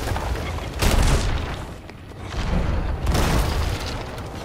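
Ship cannons fire at a galleon in the pirate game Sea of Thieves, two heavy booming blasts about two seconds apart, each rolling out over a noisy background.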